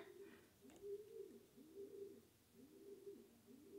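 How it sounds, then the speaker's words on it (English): Soft, rhythmic pigeon cooing repeats several times in low, rolling phrases, fairly close, with quiet room noise around it. "The pigeons are having sex again"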